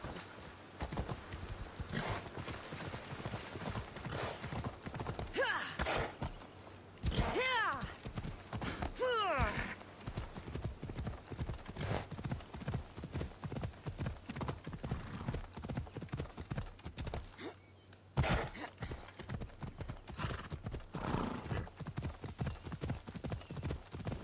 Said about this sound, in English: Ha! My magic horse!